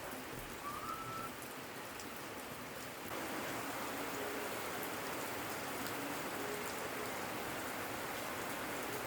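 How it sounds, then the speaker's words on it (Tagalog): Rain falls on a freshly tilled vegetable plot, a steady hiss of drops on soil and leaves that grows slightly louder partway through and continues evenly to the end, with no voices. "Malaking pasasalamat ko at bumagsak ang ulan"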